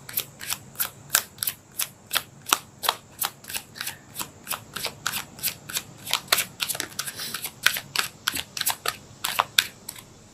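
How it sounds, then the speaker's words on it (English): Tarot cards being pulled and shuffled: a brisk, steady run of crisp snapping riffles, about two per second, close and clear with no talking. "Let's pull another card."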